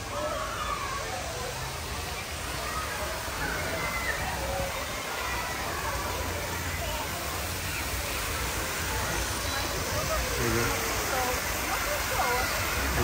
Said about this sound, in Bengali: পুরো ঝর্ণাটা আপনাদের দেখানোর চেষ্টা করবো